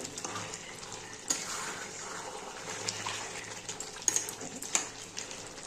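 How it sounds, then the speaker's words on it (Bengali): Water pours into a pan of browned chicken kosha, a steady splashing fill close by with a few sharp clinks of utensil against the pot, nobody speaking. "এরপরে আমি একটু জল দিয়ে দেব।"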